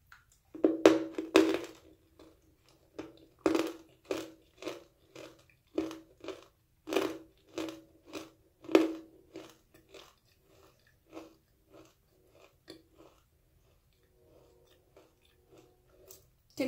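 Red nakumatt clay from Kilimanjaro is chewed close to the microphone, with sharp crunchy bites in an irregular rhythm that thin out into softer, sparse grinding toward the end.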